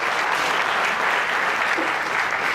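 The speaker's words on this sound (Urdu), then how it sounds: "میں چاہتا ہوں کہ ایاز شیخ صاحب کا آپ زوردار تالیوں سے استقبال کریں۔" An audience at an Iqbal Day evening program in Solapur breaks into loud, sustained applause welcoming a speaker, a dense wash of clapping that continues evenly throughout.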